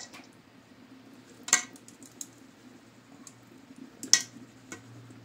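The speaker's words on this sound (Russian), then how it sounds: "Яйца пляшут у меня в кастрюле, стучат." Eggs boil in a pot on a village kitchen stove. A few faint knocks and taps come at scattered intervals over a quiet background hiss.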